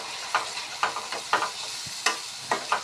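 Tomato and cashew paste sizzles in a pan while being stirred, with a steady frying hiss broken by repeated scraping strokes of the spoon at an even rhythm, close and alone.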